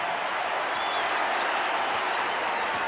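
A packed basketball arena crowd at a 1989 NBA Finals game between the Lakers and Pistons roars and cheers in a dense, steady wash of noise, with clapping mixed through it.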